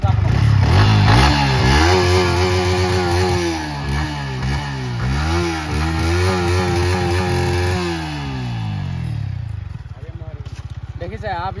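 A motorcycle engine revs hard up close, climbing and dropping through several throttle blips in quick succession before settling to a rough, lower idle near the end.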